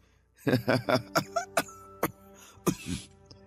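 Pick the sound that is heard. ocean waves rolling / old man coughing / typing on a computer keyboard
old man coughing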